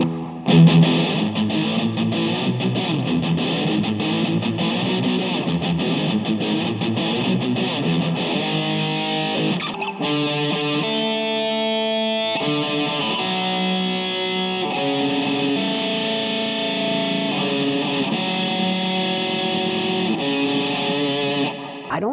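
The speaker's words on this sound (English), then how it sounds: "Now finally, we're going into distortion with delay." A Harley Benton ST-JAMster SCA electric guitar played through its built-in distortion and delay, loud gritty chords giving way to sustained single notes and short lines with echoing repeats, with no talking.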